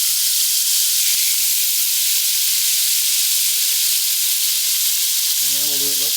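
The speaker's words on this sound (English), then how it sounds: "We're still on sear saute, and we're going to deglaze the pot with the melted butter" Melted butter sizzles in a pot on a sear/sauté setting while pork loin is prepared, giving a steady, even hiss throughout, with a short tonal sound near the end.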